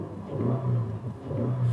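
The 270-horsepower 4.0-liter V6 of a 2019 Toyota 4Runner TRD Pro runs close by, a deep throaty hum swelling in two rev-like surges, with no talk.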